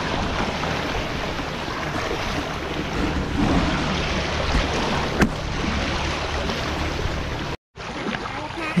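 Strong current and waves at a river or sea swimming spot rush and churn loudly and close, a continuous roar of water mixed with wind buffeting the microphone, ending in a brief cut.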